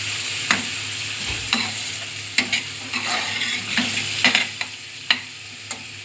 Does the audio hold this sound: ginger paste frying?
yes